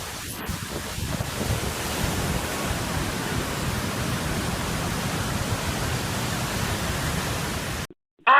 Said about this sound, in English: a waterfall cascades directly over it, transforming the roadway into a rushing stream